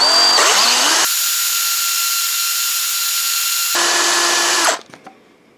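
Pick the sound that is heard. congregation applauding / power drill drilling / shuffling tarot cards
power drill drilling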